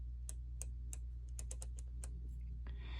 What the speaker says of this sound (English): a really kind of satisfying click whenever you are changing any of the selections